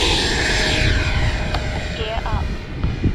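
A Freewing L-39 Albatros 80mm EDF RC jet whines steadily overhead, a continuous ducted-fan roar with rising and falling pitch, while a person talks over it.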